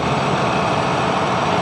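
A New Holland 5620 CRDI tractor engine idles with a smooth, steady, even hum at close range, unbroken over a short stretch with no voices.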